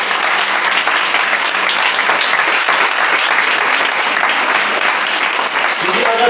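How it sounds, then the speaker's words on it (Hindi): A church congregation bursts into loud, sustained applause, dense clapping filling the room without a break. "आइए हम जोरदार ताली प्रभु यीशु मसीह के लिए बजाएंगे"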